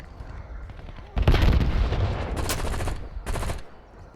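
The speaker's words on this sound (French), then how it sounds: "je déploie une tourelle automatique" An automatic turret fires in Call of Duty Black Ops 7, rapid loud automatic gunfire in sustained bursts over a low rumble of battle ambience.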